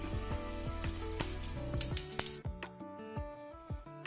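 A spoonful of cumin seeds is dropped into hot oil in a kadai and crackles with quick, scattered pops and a light sizzle. The sound is fairly quiet and close, with a few sharper bursts, over faint background music.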